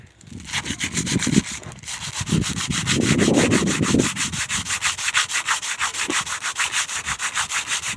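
Old sandpaper is rubbed back and forth by hand on a dry, hail-damaged wooden exterior window frame, making close, rhythmic rasping strokes that start uneven and settle into a quick, steady pulse.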